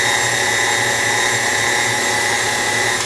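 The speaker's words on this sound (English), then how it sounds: "And you're just gonna mix it for a couple of minutes, a little high." Electric mixer whirring steadily on high through vegan strawberry shortcake batter, a loud, close, continuous motor drone with a faint whine and no break.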